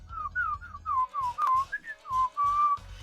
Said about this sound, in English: all of you notice a whistling sound